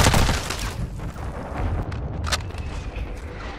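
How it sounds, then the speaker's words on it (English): Mortar shells from an enemy strike in Call of Duty thud and rumble, a heavy blast at the start fading into a rolling low roar with a few fainter distant impacts and crackles. "Enemy mortar strike in the area."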